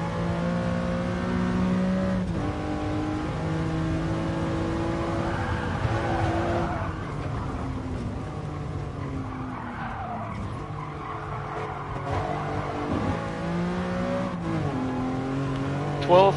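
Lamborghini Countach racing in Gran Turismo Sport, its engine note rising and falling in steady harmonic sweeps as it accelerates and shifts, with tire skids and other race cars around it throughout.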